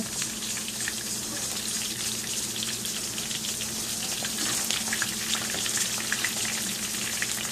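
Catfish frying in a pan of hot oil, a steady, dense sizzle and crackle running throughout with scattered pops, fairly close and with no voices over it.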